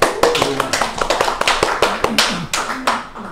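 An audience at a lecture breaks into applause, a burst of sharp, uneven hand claps that fades and picks up again over a few seconds.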